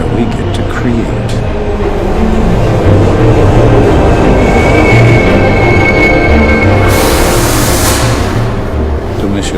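A train rumbles steadily at a station, loud and continuous with rolling low noise and a brief burst of hissing near the end, while people talk over it.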